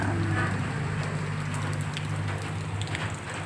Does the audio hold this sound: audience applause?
no